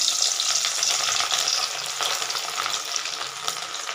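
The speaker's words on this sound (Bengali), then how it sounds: "তেলটা আমার গরম হয়ে গেছে, আমি এখন তেলে রসুনটা আগে ফোড়ন দেব।" Garlic hits hot oil in a wok and fries with a loud, dense crackling sizzle close by, bright spitting bursts over a steady hiss that eases slightly after the first moments.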